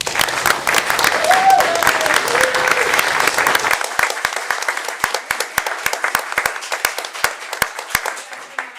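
Audience at a city council meeting breaks into sustained applause, dense clapping for several seconds that thins out to a few scattered claps before stopping.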